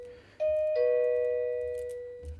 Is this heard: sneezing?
no